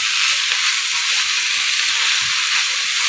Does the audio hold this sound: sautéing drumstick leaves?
yes